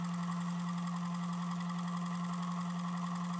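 A magnet generator rotor spins behind its coils, a steady low electrical hum with a fine mechanical buzz above it, constant and fairly faint, with no clear slowdown.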